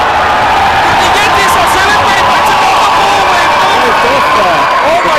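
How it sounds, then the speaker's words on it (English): A dense crowd at a university varsity ice hockey match in London roars steadily as a goal goes in. The loud, sustained cheering fills the whole moment, with a commentator's voice over it. "Crowd's going wild"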